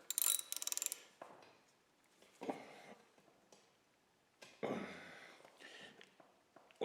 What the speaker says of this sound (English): we'll take our ratchet and we'll run these up till they're tight